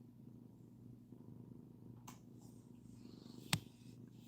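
A ten-year-old cat purring very close by, a soft, low, steady rumble running throughout, with a faint tap and a brief sharp click near the end.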